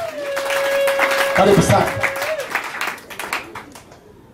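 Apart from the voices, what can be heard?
congregation clapping at a funeral service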